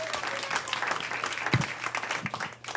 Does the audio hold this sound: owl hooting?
no